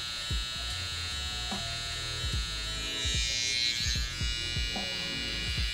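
Electric hair clipper cutting a taper fade, held upside down against the grain at the nape, giving a loud continuous close buzz with small shifts in pitch as it moves over the hair.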